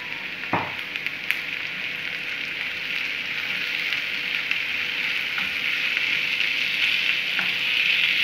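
Tomatoes sizzle and fry in a pan while being stirred, a steady close crackle with a few sharp clinks of the utensil against the pan near the start and end, no talking.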